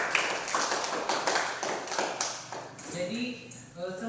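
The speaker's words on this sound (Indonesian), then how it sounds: "tepuk tangan untuk kelompok 2" A primary school class claps for a student group, a quick, uneven burst of hand claps that thins out, with children's voices and chatter rising underneath toward the end.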